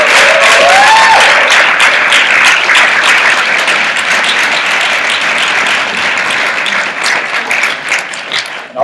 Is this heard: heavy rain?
no